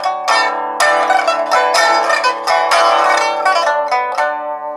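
Pipa strumming a lively melody phrase, the first strum of each little group clearly accented and louder than the rest, bright and close with quick rhythmic bursts.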